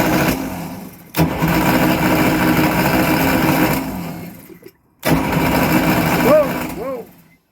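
A Luhrs 28 boat engine with a faulty carburetor runs steadily and loudly, cutting out briefly before catching again, with faint voices in the background.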